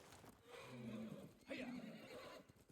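Horse neighs in the video game Ghost of Tsushima, a whinny rising at the start and a second louder neigh midway, with faint hoof clatter beneath.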